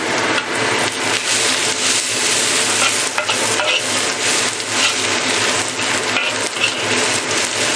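Loud, continuous sizzling as bitter gourd is tossed in a hot wok with extra oil, with rapid scraping of the spatula against the metal.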